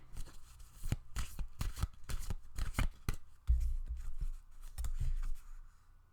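A tarot deck is shuffled by hand before a final card is drawn in a pick-a-card reading. Close, papery riffles and slaps come in quick irregular bursts, followed by softer card sliding, and no one talks.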